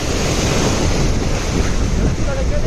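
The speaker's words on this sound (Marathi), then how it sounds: "लाटा एवढ्या आहेत ना मित्रांनो काही समजत पण नाही आणि हवा पण खूप आहे" Sea waves crash continuously at Murud while strong wind buffets the microphone, creating a loud, dense roar with no clear pauses.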